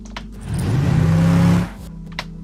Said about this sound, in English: you hear the car entering on the right, and then you hear the sound balancing in to the center